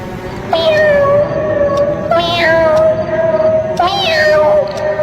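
A cat meows three times, drawn-out and fairly close, over a steady hiss of background noise.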